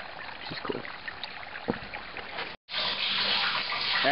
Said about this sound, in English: That is the sound of water pumps without electricity.